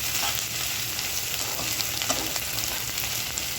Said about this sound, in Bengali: দেখতে পাচ্ছেন শুটকিগুলো ভাজা ভাজা হচ্ছে।